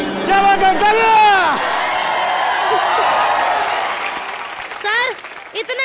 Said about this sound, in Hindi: क्या बात है तालियां.